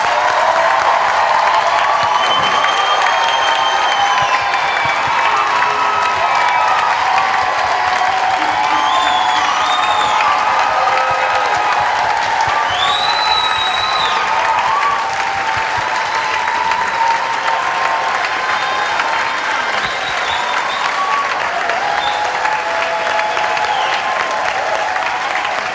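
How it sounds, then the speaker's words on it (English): An audience at a film festival conversation event applauds, a dense, sustained round of clapping with a few cheers, loud and unbroken for the whole stretch. "if we can all just give a round of applause to Maori"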